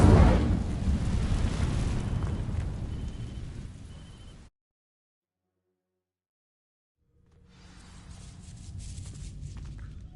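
A fire spell cast in Hogwarts Legacy roars out as a loud, broad whooshing burst that fades over about four seconds, then cuts to silence before a quieter rumbling game ambience returns.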